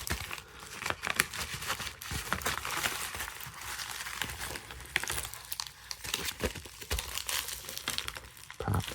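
A loose game disc is packed into a 9x6 bubble mailer, giving continuous close crinkling and rustling of plastic with scattered sharper crackles and no talk.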